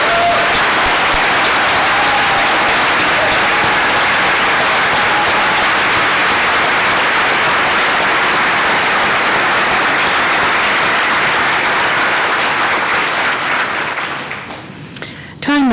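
Sustained audience applause at a lecture by Sarah Weddington, a dense, loud wash of many hands clapping at once that holds steady for about fourteen seconds and then thins out abruptly near the end.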